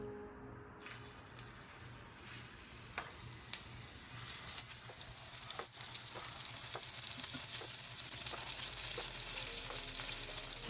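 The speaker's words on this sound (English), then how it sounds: "we're going to take the meatballs and put them in the pan until they're golden" Meatballs frying in duck fat in a saucepan make a continuous close crackling sizzle that swells gradually, with a few sharp pops and taps along the way and no talking.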